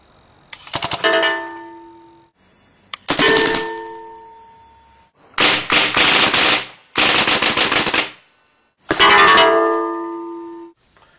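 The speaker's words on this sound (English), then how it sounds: "I mounted a paintball gun to the ROMP and came up with the paintball UGV." Paintball gun mounted on a small robotic ground vehicle fires five loud rapid bursts separated by silent gaps, each volley a sharp rattling string of shots with metallic ringing tails.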